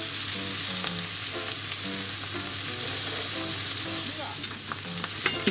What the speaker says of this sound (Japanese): お酒を一回しほど入れて蓋をしてちょっと1分ほど蒸し焼きにしていきます。